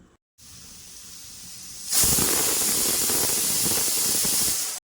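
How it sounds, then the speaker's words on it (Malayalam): A Surya Line pressure cooker cooking beef lets out a loud, steady hiss of escaping steam that starts abruptly after a quieter stretch and holds constant until it cuts off. "ഞങ്ങളുടെ ഓൺ പ്രോഡക്റ്റായ സൂര്യ ലൈൻ പ്രഷർ കുക്കറിലാണ് ഇന്ന് ബീഫ് വേവിക്കുന്നത്"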